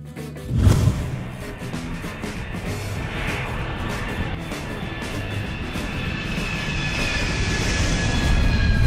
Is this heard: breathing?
no